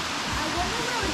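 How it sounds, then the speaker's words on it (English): The waterfall at Falling Waters State Park, Florida, pours into a limestone sinkhole with good flow after rain, making a steady, close rushing roar. A voice speaks faintly underneath. "This waterfall is mostly dependent on rain"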